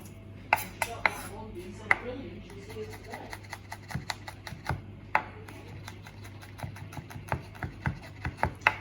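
Garlic cloves chopped with a knife on a board for a black bean dish, a run of sharp, irregular taps that speed up into quick repeated strikes, close by over a low steady hum.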